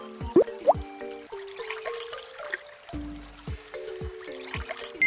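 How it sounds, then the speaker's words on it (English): Water glugs out of an egg into a hole in a Dinosaur Train kids' video game, heard as a series of bubbly gurgles with pitched drops and a few sharp chimes, close and steady, with no voices. "That egg held the right amount of water to fill that hole."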